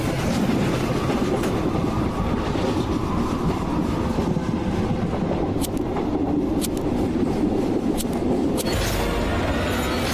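A train rolls steadily along the rails with a continuous rumbling clatter and faint rhythmic clicks, fairly close and unbroken for about ten seconds, with no voices.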